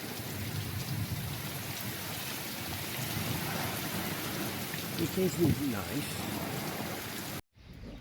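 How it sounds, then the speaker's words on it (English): Heavy rain from a close overhead thunderstorm pours down steadily with a dense hiss, a brief low rumble midway, and a short spoken remark near the end before a sudden cut. "Yeah, quite a lot of rain came down."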